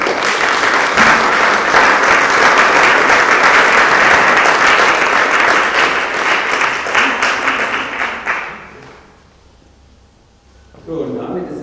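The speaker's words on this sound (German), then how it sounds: "das ist ein Applaus wert" A church congregation at a festive service breaks into loud, dense applause that holds steady for about eight seconds, then fades to near silence before a voice begins talking.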